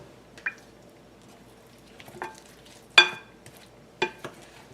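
Mayonnaise is folded into a potato salad with a spoon, giving a few soft, wet squishes and scrapes spaced apart, with one sharper clink of the utensil against the bowl near the middle, close and fairly quiet.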